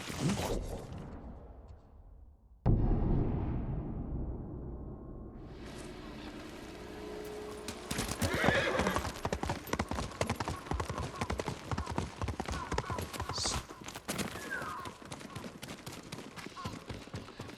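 Rhythmic horse hoofbeats clip-clop through a busy, dense Ghost of Tsushima game soundscape, with scattered impacts and whooshes layered over the steady trotting.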